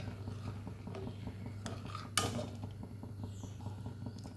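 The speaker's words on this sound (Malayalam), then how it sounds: "ഇതിളച്ച് ശരിയാകുന്നവരെ ഇളക്കണം അല്ലേ അടിക്ക് പറ്റിപ്പോവും" A spoon stirs wheat milk porridge with coconut milk in a pot, producing faint, regular scraping clicks against the metal with one sharper knock partway through, under a low steady background hum.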